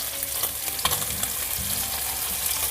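Fish frying in hot, splattering oil during a fishing outing at a lighthouse fishing park in Tongyeong, giving a close, continuous crackling sizzle with sharper pops and spits scattered through it.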